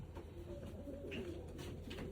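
A pigeon coos softly in a loft among show and racing breeds, a few low, faint calls over a quiet room background.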